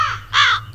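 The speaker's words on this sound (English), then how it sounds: "Just a bird." A crow in a horror RPG video game gives two harsh caws, the second louder and longer, over a low steady background hum.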